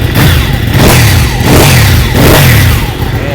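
A sport 1000cc motorcycle engine revs repeatedly in loud surges about once a second, each rise falling back between blips, close by with no talk.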